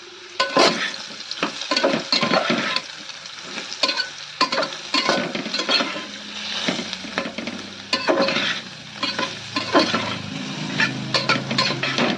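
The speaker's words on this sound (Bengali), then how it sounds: "দেখো সয়াবিনগুলো কিন্তু হালকা ভাজা হয়ে গেছে" Soybeans frying in a pan, a spatula scraping and tapping in busy bursts against the metal over a soft sizzle, close and lively with no speech.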